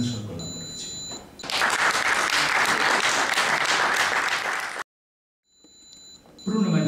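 An audience at a book event applauds loudly and steadily for several seconds, the clapping cutting off abruptly into silence, with faint beeping tones before and after.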